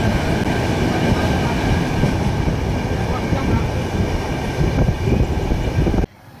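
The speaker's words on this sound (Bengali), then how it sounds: "আর ট্রেন এখন প্রচুর জোরেই চলছে" A passenger train runs fast along the rails, a loud, close, steady rumble and rattle of the carriage that cuts off abruptly near the end.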